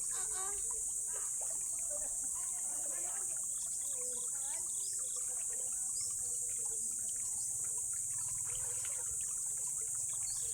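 Water rushes and trickles steadily in a river in Mindoro Oriental, flowing with a strong current under faint, distant voices throughout.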